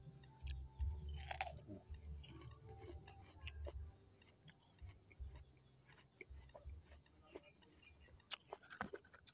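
Crunchy, juicy jujube (appleberry) fruit being bitten and chewed up close, a run of crisp crunches and wet chewing sounds over several seconds, with faint background noise.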